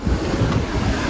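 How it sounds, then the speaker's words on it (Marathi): Steady blustery sea wind buffets the microphone with a deep, continuous rumble, like surf roaring nearby, and no voices, at Vijaydurg fort on the Konkan coast. "समुद्राची हवा आहे."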